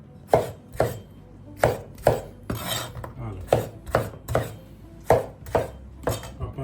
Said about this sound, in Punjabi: ਮੋਟੇ-ਮੋਟੇ ਕੱਟ ਕੇ ਟਮਾਟਰ